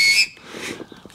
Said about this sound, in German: Diese Ventile haben leider die Eigenschaft, dass sie pfeifen.